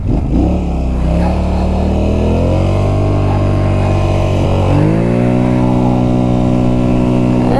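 A Polaris Sportsman XP 1000 S ATV engine revs loudly at full throttle up close, the tone climbing steadily, dipping, then surging higher and holding a strong drone.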